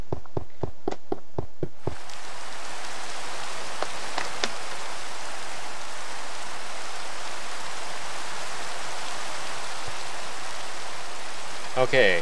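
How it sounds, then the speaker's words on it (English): Steady rain falling in Minecraft, a soft continuous hiss throughout after a series of sharp regular clicks at the start, with a few faint game sounds near the end. "it's raining"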